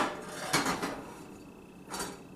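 A cooking pot of rice set onto a stove, two brief metallic clanks with a short rattle between, close and without speech.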